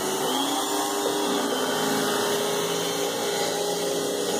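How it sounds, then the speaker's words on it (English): A Eureka Rotomatic vacuum cleaner with its power head running under a bed, a steady droning whine with a high tonal hum that holds unbroken and fairly loud, with no talk over it. "this Eureka Rotomatic power head is now off the floor"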